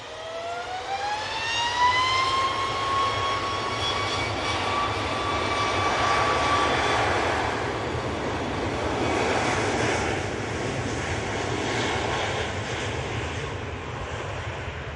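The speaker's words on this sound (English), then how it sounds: "So 737 MAX 8 is off to Rhodes." A Boeing 737 MAX 8 takes off at Manchester Airport, its engines building to a loud rising whine and roar that peaks and then fades steadily as the jet climbs away into the distance.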